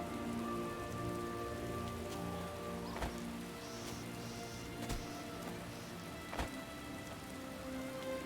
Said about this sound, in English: I actually kind of like this rain.